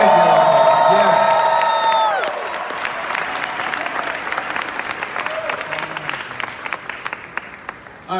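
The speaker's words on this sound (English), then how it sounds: "Give them a tremendous round of applause." Loud audience applause and cheering at a motivational speaking event, a dense wash of clapping with whoops that follows fading music and continues for several seconds before tapering off.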